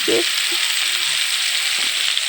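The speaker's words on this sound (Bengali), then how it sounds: "কড়াইতে এঁচড় আর আলুটা ভেজে নিচ্ছে" Jackfruit and potato pieces frying in a wok, a loud, steady hissing sizzle filling the whole clip with a brief stir or clatter near the start.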